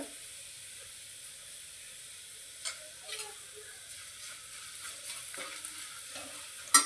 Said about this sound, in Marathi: आता आपलं लसण ते चांगलं लाल झालं आहे आता आपण यात तिखट टाकूया